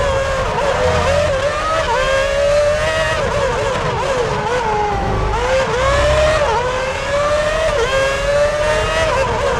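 Formula 1 race car engines in the F1 2006 video game scream loud and close, rising and falling with gear changes in a steady, continuous rev.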